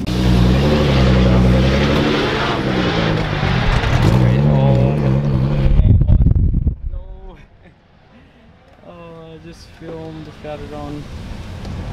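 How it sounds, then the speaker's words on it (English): A white wide-body Nissan GT-R rolls past on a street in a car dealership strip, its engine a loud, close drone that swells and then fades away. A voice talks during the pass. "that was a white wide body GTR"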